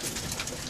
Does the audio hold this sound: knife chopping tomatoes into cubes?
no